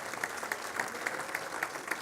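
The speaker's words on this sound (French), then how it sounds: "je veux entendre une acclamation pour Jésus" Church congregation clapping in time for Jesus, a crowd's applause with a steady rhythmic beat of about four claps per second riding over the general noise.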